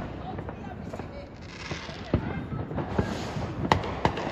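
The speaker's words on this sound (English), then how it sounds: "Oh, look at all these fireworks." Fourth of July fireworks bursting at a distance, with several sharp booms and crackles arriving irregularly over a steady outdoor rumble, plus faint voices in the background.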